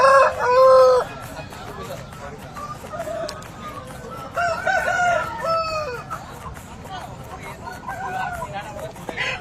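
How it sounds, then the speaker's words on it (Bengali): A black fighter rooster for sale at a chicken market crows loudly and close at the start, followed by more crowing and clucking from nearby birds while someone talks over the market bustle. "একটা ভালো মুরগি দেখাচ্ছি, পুরো ব্ল্যাক ফাইটার।"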